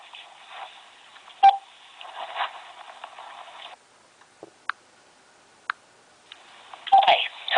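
A telephone being dialed, with a phone-line tone running for a few seconds, scattered short beeps and clicks in a quiet stretch, then the tone returning near the end.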